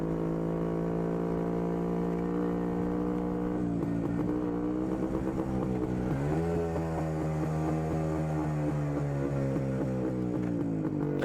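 A 1982 Yezdi D250 vintage motorcycle, a 250cc classic running on petrol or diesel, is ridden with a steady engine drone whose pitch shifts and climbs through gear changes, loud and continuous.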